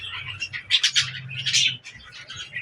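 Doves bathing in water give bright, chirping calls in quick irregular bursts, close and fairly clear, over a faint low murmur.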